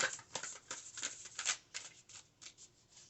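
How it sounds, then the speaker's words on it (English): A deck of large tarot cards being shuffled by hand, with close, crisp riffling and flicking bursts repeating in an uneven rhythm throughout, with no talking. "Let me give it a good shuffle."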